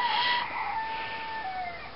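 A rooster crows nearby in one long, drawn-out call that holds steady and then trails off over about two seconds, fairly loud, with no talking over it.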